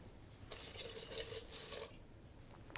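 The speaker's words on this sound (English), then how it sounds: "You can hear it starting to bubble down a little bit." Sugar cooking in a pan for salted caramel sauce, a soft close scraping and bubbling hiss lasting about one and a half seconds, fading into quiet with a faint click at the end.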